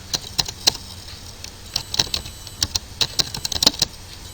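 Code goes in on a computer keyboard as a rapid, uneven run of close, crisp key clicks, some louder than others, with no voice over it.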